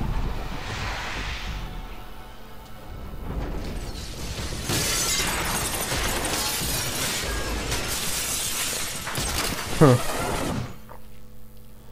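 Glass from a greenhouse shatters and crashes in the Batman Arkham Asylum video game, a dense loud spray of breaking glass with sharp impacts and a thump near the end, with talking over it.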